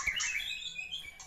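A white-rumped shama (murai batu) gives a short burst of bright, clear chirping whistles, close and fairly loud, with no talking.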